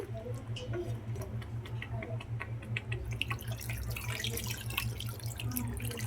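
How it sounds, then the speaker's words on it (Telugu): Tamarind juice is poured into a pan of fish curry in a home kitchen, giving a steady, close trickle and splash of liquid that grows slightly brighter partway through, with a faint regular ticking underneath and no talk. "ఇప్పుడు మనం దీంట్లో చింతపండు పులుసు కూడా యాడ్ చేసేసుకుందామండి"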